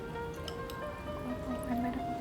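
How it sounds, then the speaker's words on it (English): Hot homemade sugar wax drips into a bowl of cold water, with soft wet plops and squishy liquid sounds coming close and faint against a steady background hum. "I'm gonna put it in cold water."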